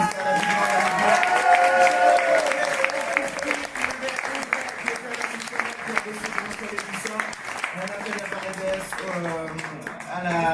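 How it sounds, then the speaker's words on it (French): A studio audience applauds steadily with dense clapping throughout, while a voice speaks over it in French. "nos deux réalisateurs qui méritent vraiment des applaudissements"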